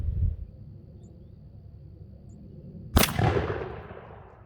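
A shotgun loaded with Longbeard XR 3-inch 1-3/4 oz turkey loads fires once through a Remington factory straight rifled turkey choke: a single sharp, loud report midway, then a rumbling decay over faint outdoor background.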